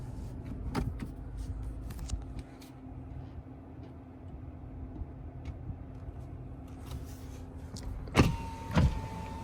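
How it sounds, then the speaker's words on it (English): Electric power windows on a 2020 Mazda CX-30 whirring as they move, two short motor runs near the end against a quiet cabin hum, no talking. "The windows, all 4 of them, are fully automatic. So you push them up and down and they just go."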